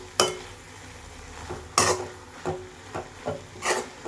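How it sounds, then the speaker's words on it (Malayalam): A spoon scrapes and knocks in a pan as grated coconut is stirred into a pumpkin leaf stir-fry, with a few sharp clatters and softer rubbing strokes spaced irregularly over several seconds, close and clear, with no talking. "ഇനി ഒതുക്കി വെച്ച തേങ്ങ ഇങ്ങോട്ട് ചേർത്ത് കൊടുക്കുക കേട്ടോ. നല്ലോണം മിക്സ് ചെയ്തിട്ട് എടുക്കുക."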